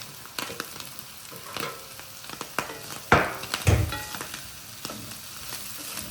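Potatoes roast in a pan for Punjabi street-style kulcha, giving a low sizzle punctuated by several sharp scraping stirs and clinks, the loudest pair coming in quick succession midway.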